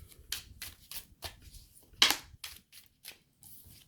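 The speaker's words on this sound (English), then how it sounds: "I overhand shuffle 7 times." Dry, papery riffling of tarot cards overhand shuffled in short repeated bursts, about seven quick passes close to the mic, with one louder snap midway.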